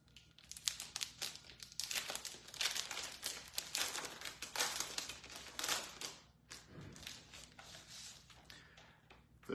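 A knitting kit's packaging is opened up close, with continuous crisp crinkling and rustling of plastic and paper, a few sharper tearing bursts, then a brief pause before more handling.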